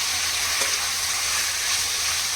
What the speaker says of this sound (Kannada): ಎಣ್ಣೆಯಲ್ಲಿ ಚೆನ್ನಾಗಿ ಫ್ರೈ ಮಾಡ್ಕೊಬೇಕು.